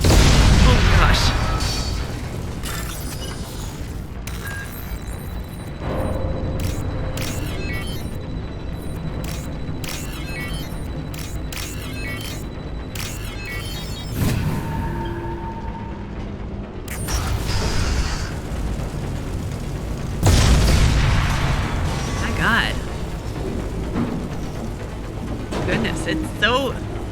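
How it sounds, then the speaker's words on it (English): Explosions and mechanical creaks in the Mass Effect 2 Legendary Edition video game, with booms and clanking bursts scattered through a burning scene, heard under a player's talking. "It is on fire, right? Hence all the explosions."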